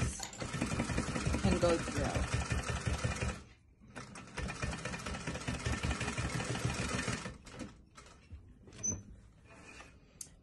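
Domestic sewing machine stitching a fabric face mask, its fast, steady mechanical whir running in long bursts with a brief pause between, close and clear, while a person talks quietly over it.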